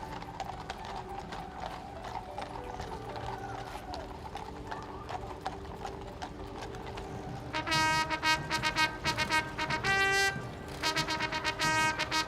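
Horse hooves clip-clop steadily at the Trooping the Colour parade over a background of crowd murmur, joined midway by loud brass military band music.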